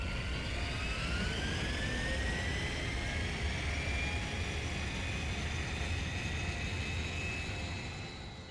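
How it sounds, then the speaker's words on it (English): Jet airliner taking off in the video game Digimon Story: Time Stranger, a steady loud engine roar with a rising whine that holds throughout and eases slightly at the end, no voices. "Prepare for takeoff!"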